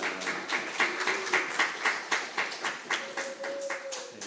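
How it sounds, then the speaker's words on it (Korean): A small audience at a reading-instruction lecture claps in thanks for two lecturers, giving a short burst of rhythmic, fairly close clapping from a few hands. "감사의 박수를 표현하겠습니다"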